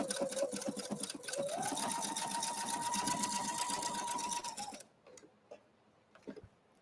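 A sewing machine stitches a heart appliqué onto fabric with a steady, fast mechanical whirr and needle tapping for several seconds, then stops, leaving a few faint clicks and handling noises.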